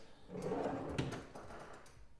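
A workbench drawer sliding shut on soft-close slides, a brief rolling rumble that eases into a gentle, damped stop, heard close with no talk.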